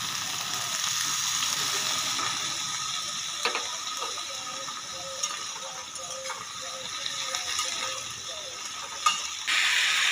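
Eggplant pieces fry in a pan with onion, chili and garlic, giving a steady, close sizzle throughout, with occasional scrapes and clicks from stirring.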